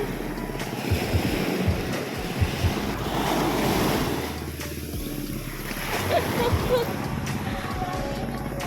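Sea water at a shoreline washes and surges steadily, with heavy wind buffeting the microphone in low rumbling gusts throughout.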